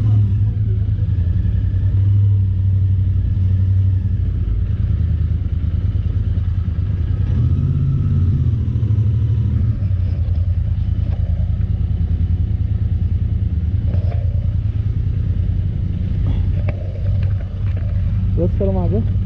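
A motorcycle engine rumbles steadily and loudly throughout as the bike is parked at a lodging on the Srinagar to Kargil road, with voices talking over it.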